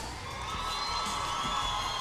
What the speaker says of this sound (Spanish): fuerte ese aplauso, a ver.